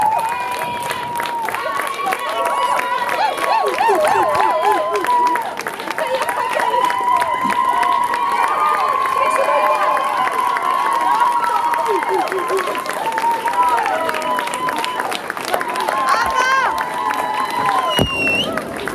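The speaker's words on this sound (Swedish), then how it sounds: "En stor applåd än en gång för Mariette." A crowd at a SpringPride 2016 concert applauds and cheers steadily throughout, clapping mixed with shouts and whistles, fairly loud and continuous.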